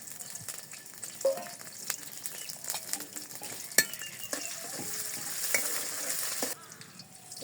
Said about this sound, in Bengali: আমি তেল দিয়ে দিই, তরকারি রান্না করবো। পেঁয়াজ দিয়ে দিলেন